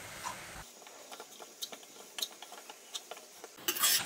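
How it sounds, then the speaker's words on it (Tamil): A spoon stirs wheat flour as it roasts in ghee in a pan for halwa, giving light scraping and ticking clinks at an irregular pace, close by and fairly quiet, with no talking. "நல்லா வாசனை வர்ற வரைக்கும் வறுக்கணும்."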